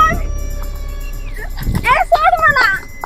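A dog yelps and barks in short, sharp bursts close by during an attack in a Marathi drama scene, with a person's voice crying out over a low background rumble.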